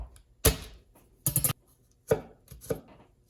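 Garlic is minced with a knife on a cutting board in four sharp, close bursts of rapid chopping separated by short pauses.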